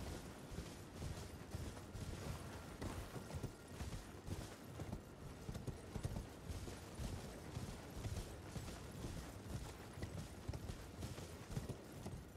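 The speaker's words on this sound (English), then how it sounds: "Get on the horse." Rapid, steady hoofbeats of a galloping horse in the video game Elden Ring pound on and on, dense and rhythmic, with faint mechanical creaks beneath.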